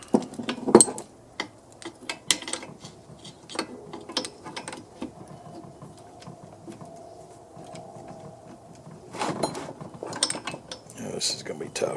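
Metal tools clank and ratchet in scattered bursts as someone works a pulley off the case of a McLane reel mower, with quiet pauses between sharp knocks and a brief faint whine midway.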